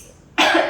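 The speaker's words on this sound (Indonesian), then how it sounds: "Agak sedikit batuk." A single sharp, loud cough bursts out after a brief quiet moment and trails off, heard alone with no talking over it.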